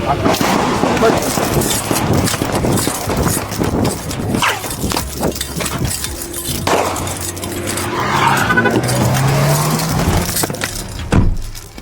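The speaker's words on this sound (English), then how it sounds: "neither one of them guys knew where the shots was coming from" Gunshots ring out during a street confrontation, a series of sharp, loud bangs scattered across the clip over traffic and crowd noise, with voices talking and shouting in the background.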